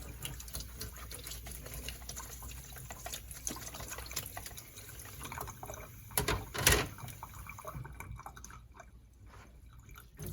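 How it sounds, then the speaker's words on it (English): Tap water runs over a watercolor palette during cleanup, a soft steady trickle with scattered drips and splashes, fairly quiet and close, with a brief louder splash near the middle. "Just running it under water will get most of it off."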